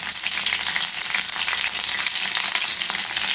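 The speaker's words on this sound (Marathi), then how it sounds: "आपण ह्यामध्ये 4-5 कढीपत्त्याची पानं आणि 2 हिरव्या मिरच्या आपण उभ्या चिरून घेतलेल्या आहे ते टाकूया" Curry leaves and slit green chillies crackle and sizzle loudly in hot oil in a pan, a dense, continuous frying hiss with small pops throughout.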